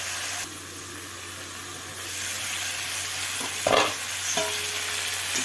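Young jackfruit curry seasoned with ground turmeric is stirred and sautéed in a pan: a steady, close sizzle with scraping stirs and one sharper clank of the utensil partway through.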